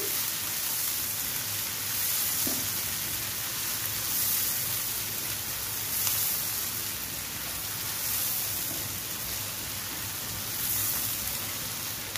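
Chopped garlic and onion frying in a pan for lau shak bhaji, a soft, steady sizzle like light rain that stays even throughout with faint scattered pops.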